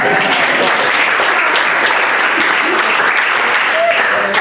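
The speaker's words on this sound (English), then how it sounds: "Great, big round of applause." Loud, close applause fills a campaign stop in Charles City, Iowa, as a crowd claps steadily for a presidential candidate's supporter, with some voices and cheering mixed into the dense clapping throughout.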